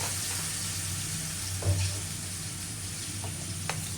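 Spices and chili frying in a pan give a steady sizzle and crackle, with a couple of soft stirring scrapes. No one speaks.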